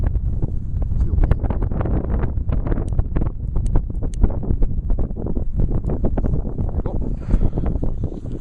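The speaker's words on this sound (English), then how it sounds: "And now we're trying like this in the wind. Still wind." Wind blasts steadily into a microphone outdoors, a loud, constant low roaring buffet with rumbling gusts and no talk over it.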